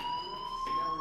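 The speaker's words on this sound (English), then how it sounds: "Hey, do you hear that fire alarm?" A steady electronic fire alarm rings in the video game Life Is Strange, a continuous high tone with faint background noise.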